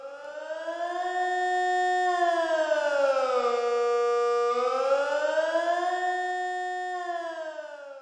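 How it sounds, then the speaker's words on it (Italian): A civil defense general alarm siren wails loud and alone, its steady tone rising, dipping low in the middle, then climbing back up over about eight seconds. "Si sgancia un allarme generale allorquando la salute e la sopravvivenza di molte persone sono messe in pericolo"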